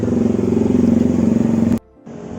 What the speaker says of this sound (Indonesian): motor lewat berisik bener